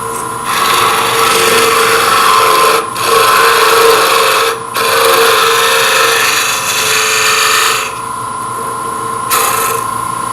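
A turning tool cuts into a wooden Christmas ornament spinning on a lathe, giving a loud, close, continuous rasping scrape broken by a few brief pauses as the tool lifts off.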